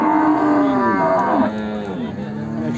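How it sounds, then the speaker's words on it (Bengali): At a traditional cattle market in Pabna, a cow gives a long, loud, close moo that rises and falls, with a second lowing call following in the market background. "অনেক সুন্দর সুন্দর কোয়ালিটির গাভী আছে"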